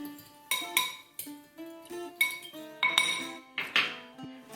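Spoon clinking and scraping against a bowl while sugar and bread yeast are stirred together for Greek pita dough, a series of bright, close metallic taps and clinks in an uneven rhythm.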